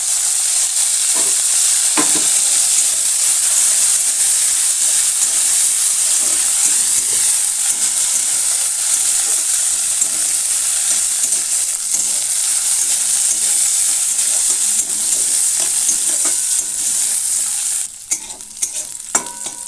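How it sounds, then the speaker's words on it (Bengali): Cauliflower fries in hot oil in a home kitchen, giving a steady, loud sizzle and hiss that runs almost the whole time, with occasional stirring clatter near the end and no talking. "তেল গরম করে প্রথমে আমি ফুলকপিটা ভেজে নেব"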